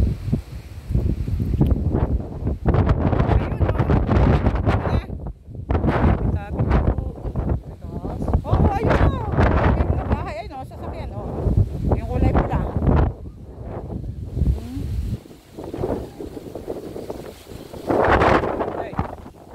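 Strong wind buffets the microphone in heavy, roaring gusts at Tayak Hill in Rizal, with a voice talking intermittently underneath.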